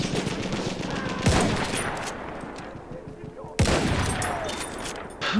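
Rifle shots ring out in the video game Battlefield 1, two sharp loud reports a couple of seconds apart over a busy background of distant gunfire and battle noise.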